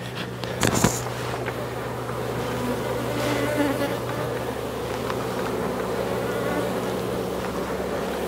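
Honey bees buzzing steadily around an opened hive during a summer honey harvest while bee escapes are being removed, a dense continuous drone close by with a brief handling knock near the start.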